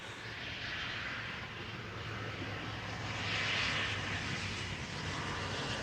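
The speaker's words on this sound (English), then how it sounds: "Got another Embraer 175 over here" An Embraer 175 airliner roars at Amsterdam Schiphol Airport, a steady broadband engine rumble heard at a distance that swells slightly midway through.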